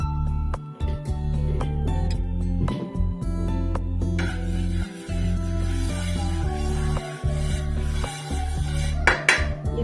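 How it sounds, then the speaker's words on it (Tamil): A dosa tawa set on the stove with loud metallic clanks and scrapes, pans and utensils knocking repeatedly at close range in a home kitchen, with a low steady hum beneath and no speech. "ஒரு தோசைக்கல் வச்சிருக்கேன்"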